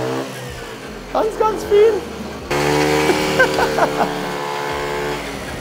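A moped engine sputters to life and then revs steadily with a droning, harmonic-rich tone, loud and close, with short exclamations spoken over it at a campsite.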